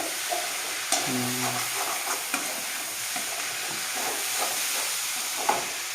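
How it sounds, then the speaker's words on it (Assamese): Roti frying in oil, a steady low sizzle and hiss with light stirring scrapes and a few soft clinks, moderately close and alone. "তেল দি ৰুটি ভাজি।"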